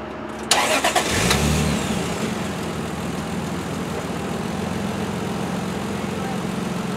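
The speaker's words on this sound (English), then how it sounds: "I'm going to turn this car on while we're outside. I want to listen to how it sounds." A 1993 Toyota Supra Twin Turbo engine cranks and fires up after a brief clatter, then settles into a steady, low, rumbling idle close by, outdoors.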